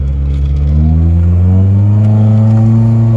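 A Nissan Altima with a freshly fitted new exhaust system, after a clogged catalytic converter was fixed, idles and revs up close, its loud, deep, steady engine drone rising in pitch.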